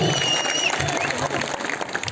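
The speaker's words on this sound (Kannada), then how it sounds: "ದಯವಿಟ್ಟು ಗೌರವ ಚಪ್ಪಾಳೆಗಳ ಮುಖಾಂತರ ಪ್ರೋತ್ಸಾಹಿಸಿ" An audience at a Kannada comedy show claps together in a dense, continuous burst of applause lasting the whole moment, with a faint murmur of voices underneath.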